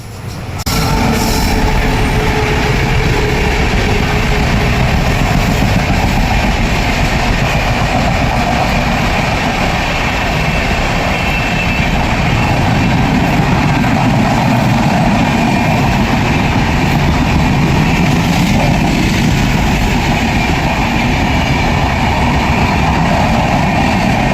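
A train rumbles past close by for a long stretch, loud and continuous, heavy low engine roar with rattling carriages and no voices.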